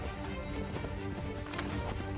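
Hooves of a galloping horse in Assassin's Creed 3, a rapid, steady clip-clop close up over dense game music, continuous for the whole short stretch.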